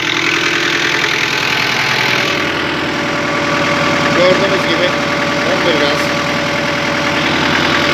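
A Türkmen 70 56 tractor engine idles with a steady low throbbing rumble, close and constant, while voices talk briefly over it.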